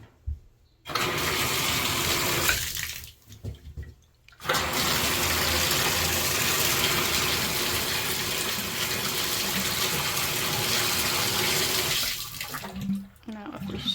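Water gushes loudly and steadily from a repaired Moen single-handle bathtub faucet, breaking off briefly once, then flowing for several seconds before it is shut off.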